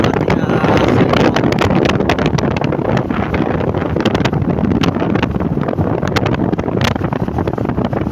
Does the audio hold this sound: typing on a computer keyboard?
no